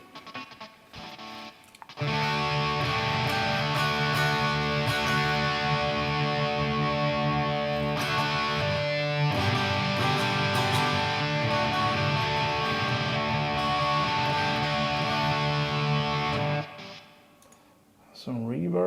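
An electric guitar plays through a Mesa Boogie Maverick amp model on an IK Multimedia Tonex Max, using a clean tone. Sustained ringing chords last about fifteen seconds after a brief quieter start and then fade out.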